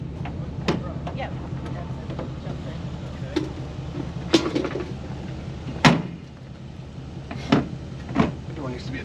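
Several sharp metallic thuds and clunks of an old truck door that needs adjusting being worked and shut, spaced irregularly, with low engine-like rumble and occasional talk in between.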